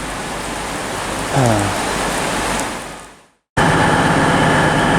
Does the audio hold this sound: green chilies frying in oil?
no